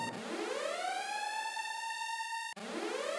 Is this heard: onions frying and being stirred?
no